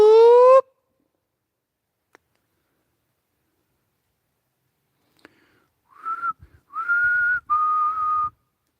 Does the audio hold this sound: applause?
no